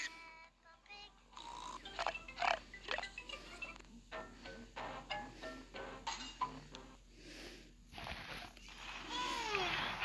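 Pig character noises from the Piggy video game, a string of irregular grunting, snorting and squealing bursts separated by short gaps, ending in a harsher, louder squeal.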